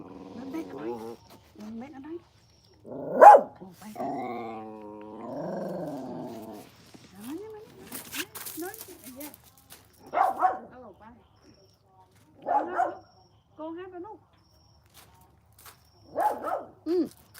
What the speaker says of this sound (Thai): maybe she see the kangaroo walk past here that's why she bark